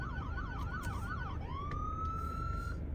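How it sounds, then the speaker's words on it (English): An ambulance siren wails near a hospital, first in a fast rising-and-falling yelp, then switching to a long steady tone that fades, over a constant rumble of road traffic. "Here comes an ambulance."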